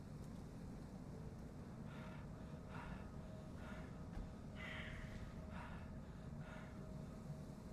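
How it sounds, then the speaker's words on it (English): Heavy, rasping breaths pulse in a slow, uneven rhythm over a low droning ambience in the horror game Call of Cthulhu, faint and close, about six breaths in a row. "it sounds like somebody breathing heavily"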